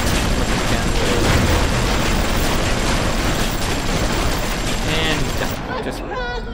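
Rapid gunfire from a video game battle, a dense, continuous barrage of shots close and loud throughout, with rattling bursts layered over the top and the barrage thinning out toward the end.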